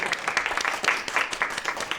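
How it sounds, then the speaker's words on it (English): Audience applause at a League of Women Voters event welcoming a new town manager: fairly soft, steady clapping from a modest crowd, heard from some distance. "Give me a round of applause."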